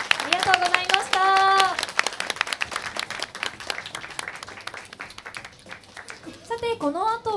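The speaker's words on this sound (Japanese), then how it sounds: "皆様もう一度大きな拍手でお送りください。" Audience clapping after a live stage performance, moderately loud and continuous, with voices calling out and speaking over it at the start and end.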